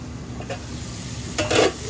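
Bean sprouts frying in a pan, with a soft continuous sizzle and a brief louder burst of stirring and hissing near the end, close up and without speech.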